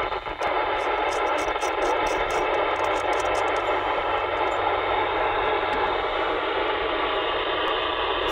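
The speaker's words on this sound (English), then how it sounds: "Four bars of static." Steady, loud radio static hissing from a Midland MXT275 handheld radio, continuous broadband noise with a few faint clicks early on and no speech.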